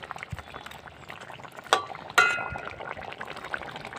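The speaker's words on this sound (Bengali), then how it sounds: "এবার আমি মাছগুলো দিয়ে দেবো ঝোলে।" Pieces of fish drop into a boiling curry broth with raw tomato and aubergine, giving two sharp splashy hits amid a continuous bubbling simmer, close and moderately loud.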